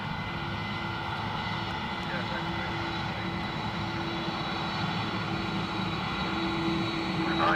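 Fixed-wing aircraft engine droning steadily at Dublin Airport, a constant loud roar with a sustained tonal whine, under faint radio chatter throughout.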